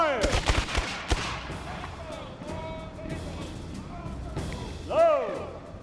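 Musket volley in a battle reenactment skirmish at Fairfax, a burst of loud, close gunfire cracks early on, then scattered shots and a rising whoosh near the end, with voices shouting commands around it.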